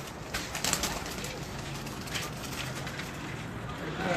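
Breeder pigeons in a Lahore loft coo softly and repeatedly, close by, over a steady hiss of background noise, with faint voices now and then.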